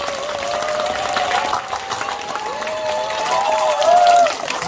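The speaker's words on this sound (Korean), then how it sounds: "여러분이 박수를 한번 크게 채워줄 일이 있습니다" An audience at a Buddhist celebration service in a temple claps loudly and steadily, a dense crowd applause that swells toward the end, with some mixed crowd noise.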